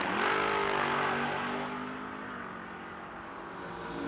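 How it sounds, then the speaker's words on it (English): A Mustang drag car roars off the line at a no-delay drag race, a loud engine snarl with a falling pitch that fades quickly as it bogs down. "The Mustang launched and went nowhere."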